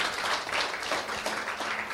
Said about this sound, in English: Can we give all these, our qualifiers, a warm round of applause?